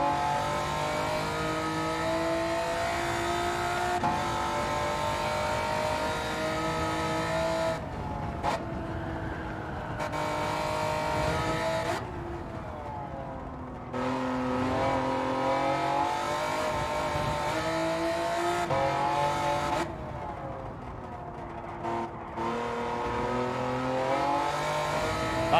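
A race car engine in Gran Turismo 7 revs high and drops sharply through repeated quick gear shifts, a steady loud whine rising and falling with brief lifts off the throttle.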